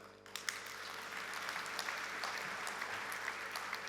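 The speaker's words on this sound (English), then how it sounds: "This is when you clap." Scattered audience clapping at a tech conference presentation, a steady patter of hands from a large hall heard at a moderate distance, fairly soft and even throughout.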